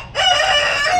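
An aseel rooster crows loudly and close by, one sustained harsh call filling the whole second.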